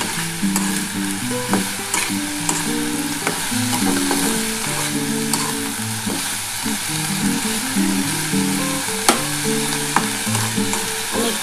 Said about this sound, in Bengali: এবার ভালো করে এটা ভাজা একটু নাড়াচাড়া করে আমি ঢাকাটা দিয়ে দেবো।